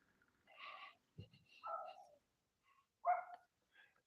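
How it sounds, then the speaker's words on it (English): A schnauzer gives a few scattered, faint barks and yelps with gaps of silence between them, heard from some distance outdoors. "It's a schnauzer barking."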